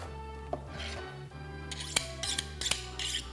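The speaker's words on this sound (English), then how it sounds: "Now, sharp knife with foam." A sharp knife slices through thick craft foam for a helmet, giving a few crisp, close snipping cuts over a low steady background hum.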